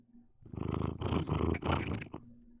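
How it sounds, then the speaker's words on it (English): A pet cat purrs close by in a steady rumbling run of about three swelling breaths, fairly loud, with no voices over it. "Is that one of your cats?"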